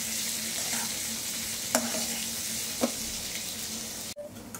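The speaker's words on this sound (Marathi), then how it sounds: "तुम्ही बघाल हा कांदा जो आहे आपला छानपैकी परतून झालाय।" Chopped onion sautéing in a pan for a garlicky okra dish, a steady frying sizzle with stirring, two brief utensil clicks, then cut off abruptly near the end.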